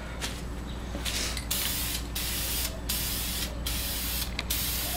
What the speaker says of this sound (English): don't spray it too close, otherwise it will drip.